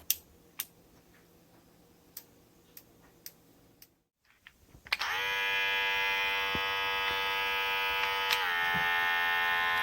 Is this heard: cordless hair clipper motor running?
yes